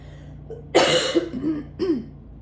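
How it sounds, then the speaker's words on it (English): A sudden harsh cough followed by a couple of smaller throaty coughs and a clearing of the throat, close by over faint background hum. "I'm having a little bit of a cough."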